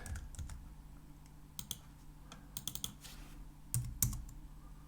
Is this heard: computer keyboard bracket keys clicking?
yes